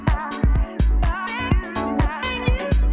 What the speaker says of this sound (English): the drums and everything is coming from the computer